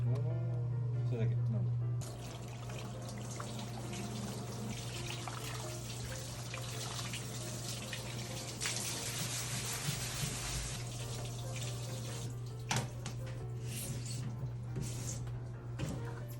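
A kitchen tap runs steadily while a fish is filleted Japanese-style. A continuous close rush of water lasts throughout, with faint handling clatter, and a voice is heard at times.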